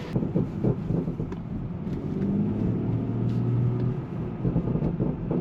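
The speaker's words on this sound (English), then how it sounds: "Those burbles are definitely still audible from the cabin, with the windows all the way rolled up." A BMW 440i 6-speed manual with an aftermarket downpipe rumbles steadily, heard from inside the cabin with windows up, with low exhaust burbles and a few crackles over a muffled drone.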